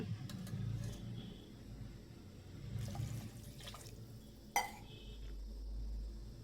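Water poured into a mixer jar holding ground spice paste for palak rice makes faint trickling and dripping sounds in a quiet room, with one brief, sharper splash.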